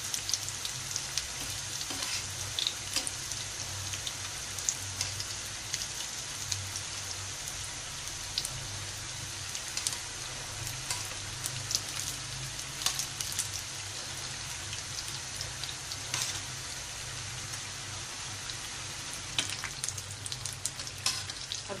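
Dahi phulki fritters fry in hot oil while being turned: a dense, continuous crackling sizzle with scattered pops and occasional stirring scrapes, steady and close throughout.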